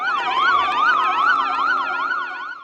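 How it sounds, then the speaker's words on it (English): Police escort vehicles wail with a loud, close siren that sweeps up and down in a fast repeating pattern, alone without speech. "Deputy Jamie Morales escorted by a long line of flashing blue lights and welcomed by hundreds of well-wishers"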